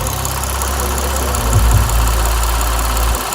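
A rebuilt 2006 Lexus IS350 engine idles steadily after running about half an hour, a close, loud low hum with a brief rev bump midway and an even rhythm throughout.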